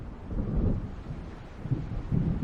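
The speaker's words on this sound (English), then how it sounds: "It seems there's a storm coming." Low rolling thunder rumbles through a stormy night scene in the video game Alan Wake, a continuous deep roar with swelling surges and no voices.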